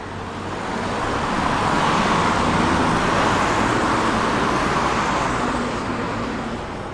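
A Volkswagen Golf Mk1 drives past on a road at a classic vehicle run, its steady broadband road and engine noise swelling and then easing over several seconds, fairly close, with no voices.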